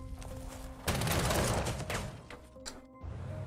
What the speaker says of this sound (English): Some heavy artillery they got up there.